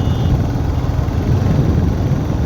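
A Royal Enfield Classic 350 Chrome Bronze motorcycle cruising at 60 in its highest gear, a loud, steady low engine thrum with continuous road and wind rush, no voices over it.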